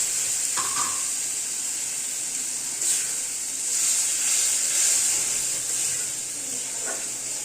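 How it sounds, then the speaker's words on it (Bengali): Fried spice paste with cardamom, cinnamon and a splash of water sizzles steadily in a pan for a curry of chicken feet and turnip, a close continuous hiss with a few faint stirring clicks. "আমাদের মশলাটা ভাজা হয়ে গেছে, কষানো হয়ে গেছে, এখন আমরা দিয়ে দিচ্ছি এলাচ"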